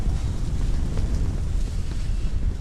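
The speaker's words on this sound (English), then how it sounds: "There goes some wind." Wind gusts batter an ice fishing tent on frozen Lake St Clair, producing a continuous low, rough buffeting roar close to the microphone.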